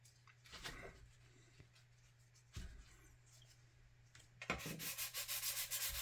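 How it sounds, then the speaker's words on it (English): Sandpaper scuffing filler on a 1/535 scale plastic model of the USS Iowa battleship, with scattered soft rubs early on and a steadier run of close, rasping strokes toward the end. "Got to clean off your sandpaper quite often though, because it gets pasty."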